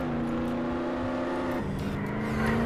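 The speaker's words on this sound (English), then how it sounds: "Whoa, I just saw like a Bugatti or something." Bugatti driving past in Roblox Jailbreak: a steady engine drone with a sustained tone that drops in pitch midway as the car goes by, loud and continuous, with no talk.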